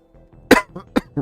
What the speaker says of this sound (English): Sorry, I coughed directly into the microphone.